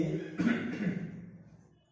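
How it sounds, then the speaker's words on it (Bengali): A person in a classroom setting gives a single loud cough-like burst followed by a softer second one, fading into quiet room noise. "এত কাশি হলে পরে আমি ক্লাসই করাবো না"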